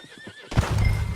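A horse in the Red Dead Redemption 2 game gives a sudden loud whinny after a quiet lead-in with faint hoof clops, the neigh close and full, alone without talk.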